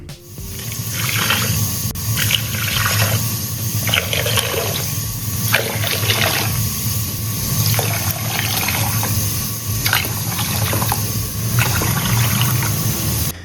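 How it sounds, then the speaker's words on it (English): Water pours and splashes into a deep pot holding jars set on a cloth for pasteurizing sour cherry preserves, a steady continuous gush running throughout with no talk. "Place a cloth on the bottom of a deep pot, arrange the jars, and pour in water."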